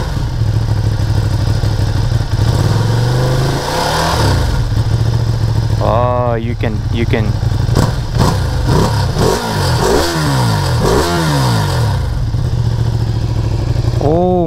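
A 2020 Ducati Panigale V2 sits at a loud, rumbling idle, then is blipped through several sharp revs that climb and drop back, with a person speaking briefly between them.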